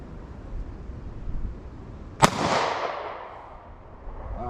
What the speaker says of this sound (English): I'm gonna line up my sights and squeeze off some shots relatively slow to try to make some good shots at 40 yards